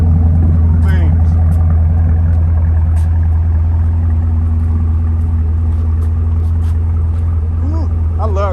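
A 2017 Chevrolet Camaro SS V8 idles steadily after a cold start, a loud, deep, even rumble that runs throughout while someone talks over it.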